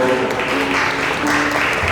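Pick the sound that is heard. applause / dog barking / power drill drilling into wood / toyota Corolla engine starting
applause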